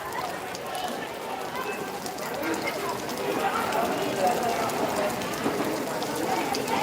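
Heavy monsoon rain pours down at Kamati as a dense, continuous roar that grows a little louder midway, with voices talking beneath it.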